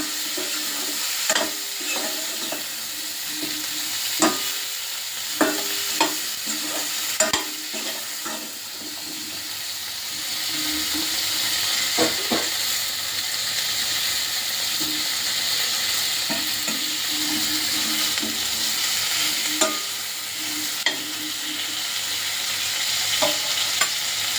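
Onions and tomatoes roast lightly in a pan for a paneer dish, a steady frying hiss under repeated scraping and stirring knocks from a spoon, close and continuous throughout with no talking.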